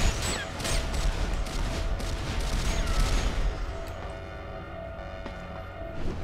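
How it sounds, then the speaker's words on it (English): Automated turrets firing in the PlayStation 2 action game Æon Flux, a rapid, continuous rattle of shots over a steady game background that gradually thins out. "I'm being shot at by turrets"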